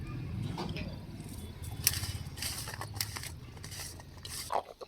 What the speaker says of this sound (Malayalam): നമുക്ക് നന്നായിട്ട് മിക്സ് ചെയ്തെടുക്കാം കേട്ടോ.